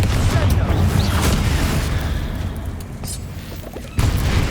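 Confringo fire-blast spell in Hogwarts Legacy, a dense booming burst that rumbles low and fades over a few seconds before a second sharp blast hits near the end.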